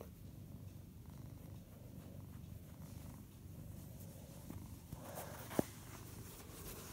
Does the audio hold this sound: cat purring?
yes